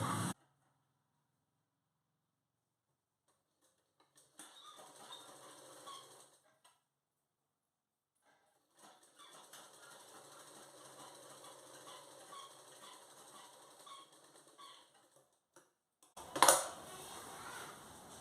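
A sewing machine stitching folded fabric while attaching a cross strip panel to a garment, running in two steady mechanical bursts of a few seconds each with pauses between, fairly close and with no talk over it.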